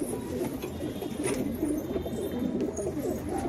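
A red Jogan pigeon coos nearby in a steady run of soft, low, throaty calls, with faint chirps and ambient noise around it.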